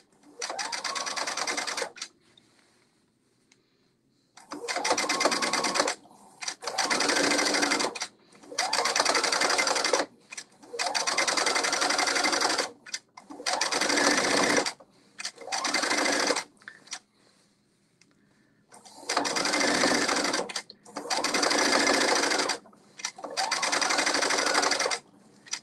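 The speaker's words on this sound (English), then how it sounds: "I'm going to sew this all the way around the neckline." A sewing machine stitches around a kimono neckline in repeated bursts of steady whirring, about eight runs of two to three seconds each, separated by short pauses, close and loud with no talking.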